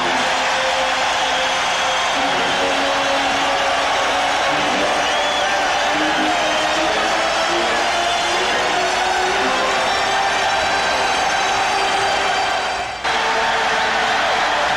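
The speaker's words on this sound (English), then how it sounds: "This capacity crowd reacting to the Knicks moving within 2." A capacity basketball crowd at Madison Square Garden keeps up a dense, loud, continuous roar during a Knicks–Bulls playoff game, with brief muffled voices beneath it.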